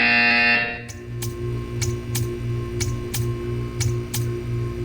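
A loud sustained buzzer tone in the video game Portal 2 sounds for under a second, then gives way to a regular ticking pulse repeating about every half second over a steady electronic hum.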